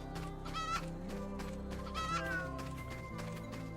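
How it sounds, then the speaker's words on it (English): Cats meow repeatedly and chickens cluck in Final Fantasy XIV, the animal calls overlapping over a steady game music bed, fairly faint overall. "Some cats and chickens and..."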